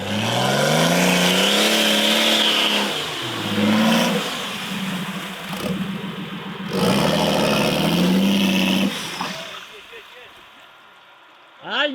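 Suzuki Samurai driven off-road on a training ground, its engine revving hard and surging, then easing and climbing again, loud and close with rough terrain noise, before dropping off toward the end.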